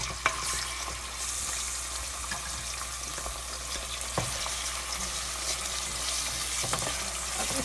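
Meat fries with onions in a hot pan, giving a continuous dense sizzle with occasional spoon stirs and small clicks.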